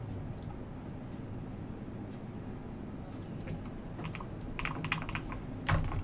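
Scattered keypresses on a computer keyboard during a keyboard build come as light, fairly quiet clicks. They arrive in short irregular bursts over a low background hum and grow busier toward the end.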